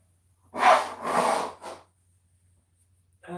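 Nose blown close up in two or three forceful honking bursts, then a short silence before another sound begins.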